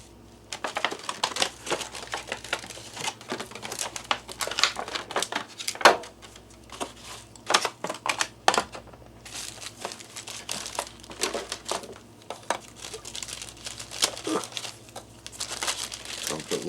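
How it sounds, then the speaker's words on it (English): Plastic Ziploc snack bags crinkle and rustle repeatedly in close, irregular bursts as a freeze-dried chocolate lava cake is packed into one, with brief sharper crackles and a faint background hum. "So I'll put 1 cake in this little snack size Ziploc bag and then put that inside of my Mylar bag."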